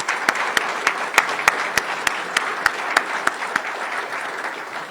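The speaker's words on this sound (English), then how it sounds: "Please help me also give them a round of applause," A room at a diplomatic event claps for a team: steady applause with sharp individual claps standing out at a fairly even rhythm, moderately loud and close, continuing for the whole stretch with no talking.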